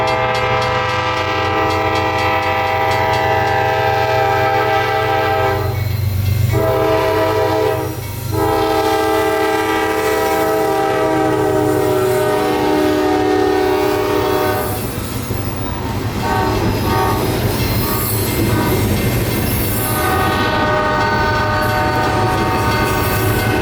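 A CSX freight train of empty ethanol tank cars rolls steadily past at close range in Central Florida, a loud sustained horn blaring over the rumble of wheels and cars throughout.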